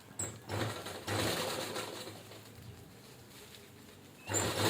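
Sewing machine stitching a fabric tiffin bag, bursts of quiet mechanical whirring with short stops between runs, faint and close, with soft background chatter of birds.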